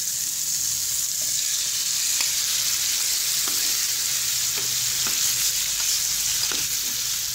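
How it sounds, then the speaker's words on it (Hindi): Marinated chicken fries in a pan with a steady, close sizzling hiss, broken now and then by soft taps as it is stirred. "और अब हम इसे अच्छे से फ्राई कर लेंगे।"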